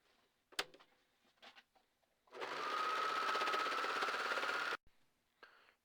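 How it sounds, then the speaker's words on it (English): A serger runs across a fabric edge in one steady, fast mechanical whir of about two and a half seconds, close and clear, framed by a few soft handling clicks before and after. "Now you will want to serge all the way across this edge"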